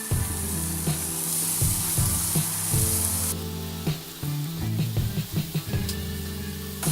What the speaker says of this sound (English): I'm just going to take each of these pieces and lay them on the grill.